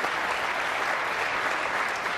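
Crowd at the 2018 Welsh Open snooker final applauding a pot, a dense, even burst of clapping that fills the hall steadily from start to finish.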